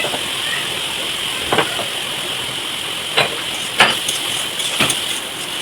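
Water poured into a hot frying pan of bitter gourd with onion and green chilli raises a loud, steady hiss of steam, with a few sharper bursts of spitting along the way.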